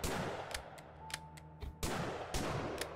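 Gunfire in the video game Lovecraft's Untold Stories: a quick run of sharp shots over a steady low background hum, several bursts close together and fairly loud, with no voices.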